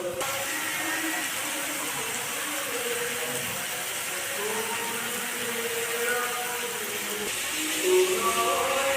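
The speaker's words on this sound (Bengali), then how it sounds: "এবার মশলাটাকে ভালোভাবে কষে নেব।" Masala with chilli paste and dry chilli powder frying in a pan, giving a steady, even sizzle and hiss throughout with no voices.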